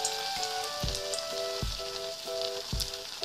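Raw banana kofta balls sizzle steadily in hot mustard oil over a low gas flame, a continuous close frying hiss with soft pops as balls drop in, and faint tonal hum in the background; no talking.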